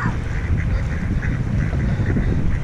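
Ducks quack repeatedly and loudly as they cross a path, the nasal calls overlapping in an irregular chorus over a steady outdoor background.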